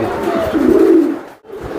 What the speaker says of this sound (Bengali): কি গরম ব্লাডের কবুতর